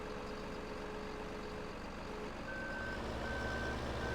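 A truck in Farming Simulator 2015 sounds steady intermittent reversing beeps over a low idling engine hum, the tones starting partway through and repeating evenly.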